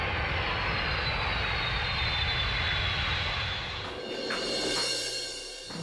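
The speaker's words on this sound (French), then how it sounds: "L'avion a dû atterrir maintenant." Airplane landing, a loud steady jet roar that fades and shifts near the end as the aircraft moves away.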